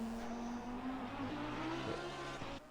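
A Lamborghini Super Trofeo race car at Monza holds a steady, loud engine drone, pitch climbing slightly as it carries speed into the first chicane, then dropping with brief downshift blips near the end.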